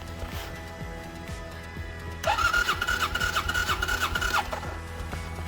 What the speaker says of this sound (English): the motor does spin over. You could hear it.